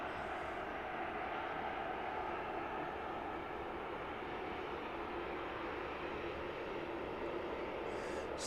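A busy passenger airliner rumbles at East Midlands Airport runway in the evening, a loud, steady broadband engine roar that holds evenly throughout without speech.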